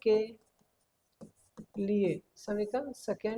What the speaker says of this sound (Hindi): तो यहाँ पे लिखेंगे एक लाइन